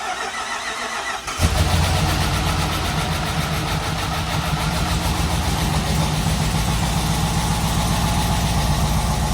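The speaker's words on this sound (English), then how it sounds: "Curtis is gonna fire it up For right now. 30 seconds, and then we'll check the oil." A supercharged Jeep Trackhawk engine cranks and catches after a quiet opening, then settles into a loud, steady, rumbling idle with a constant whine, recorded close by with no speech.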